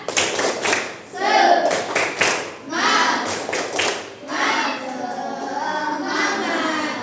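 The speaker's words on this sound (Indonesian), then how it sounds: "kita tepuk semangat dulu" A primary school class joins in the rhythmic clapping chant 'tepuk semangat', with bursts of hand claps alternating with children's and a teacher's voices, loud and close in a classroom.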